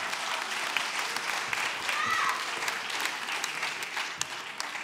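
Audience at a local talent show applauding a performer, a sustained steady patter of many hands clapping at moderate level, with faint voices in the crowd.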